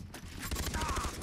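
Rapid bursts of automatic gunfire from a weapon in the video game Far Cry 3, played in co-op, fire steadily through the clip at moderate loudness with a voice faintly underneath.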